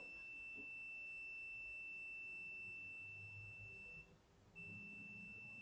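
A multimeter continuity test gives a steady high electronic beep tone, sounding continuously, cutting out briefly once before resuming, over faint background hiss.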